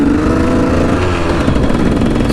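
Dirt bike engine on a hard-packed flat track dirt park on a hot day, a steady loud buzzing drone held close and continuous throughout with slight throttle wavering, no voices.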